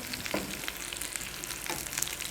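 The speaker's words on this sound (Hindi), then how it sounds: "दोनों साइड से अच्छी तरह फ्राई करने के बाद" Potato tikki patties fry in hot oil in a pan, giving a steady, close crackling sizzle with a few sharper pops and no voices.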